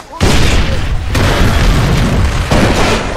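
A loud, close grenade blast in Far Cry 3 booms and rumbles for a couple of seconds, followed by a second heavy burst near the end.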